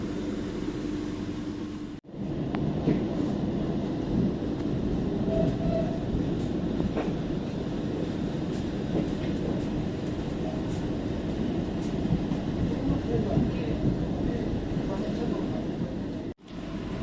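Passenger train running on ordinary track short of a station on the Surabaya to Solo line, heard from aboard as a loud continuous rumble with rhythmic clacks, briefly cut off near the start and end.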